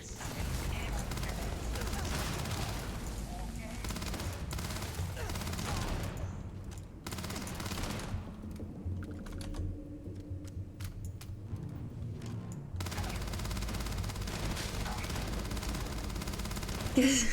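Sustained rapid gunfire and mechanical combat noise from the video game Starfield rattle on at moderate volume, with a brief lull midway before the firing resumes.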